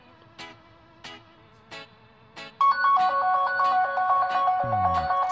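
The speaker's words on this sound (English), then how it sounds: "as you can hear, that makes my Nexus 7 ring" A Nexus 7 tablet rings when triggered remotely through Android Device Manager: several spaced electronic chimes, then a loud, continuous ringtone melody close by, with no speech.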